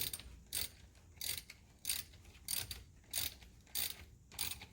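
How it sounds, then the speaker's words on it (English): Socket wrench ratchet tightening a spark plug on an Audi S3, seven quick rhythmic clicking bursts at about even intervals, close but quiet, alone without talk. "And then tighten it down with the socket wrench."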